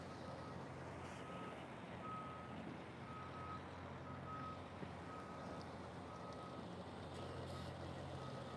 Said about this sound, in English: We got another truck coming.